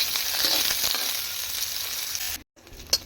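Washed drumstick pieces frying in oil in a pan, a dense steady sizzle close up that fades slightly before a short gap, followed by a sharp stirring clink.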